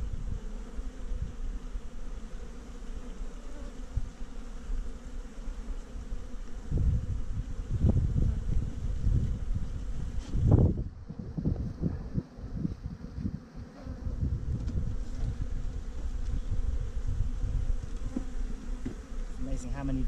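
Iberian honey bees buzz steadily around an open hive, a dense continuous hum with swells as the swarm grows louder and softer over about twenty seconds, no voices.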